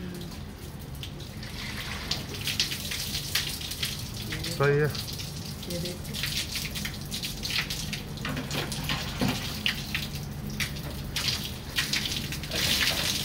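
Water splashes and gushes while an air conditioner is washed, in irregular bursts of spray and running water, with a few short spoken remarks over the top.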